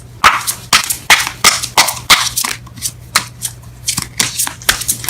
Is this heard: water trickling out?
no